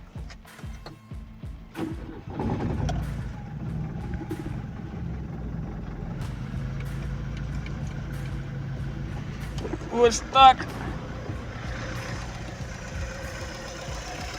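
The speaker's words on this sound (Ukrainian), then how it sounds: "Двигун працює, все працює." A car engine idling on LPG, a steady low rumble running throughout, close by, with someone talking over it and a brief rattling clatter partway through.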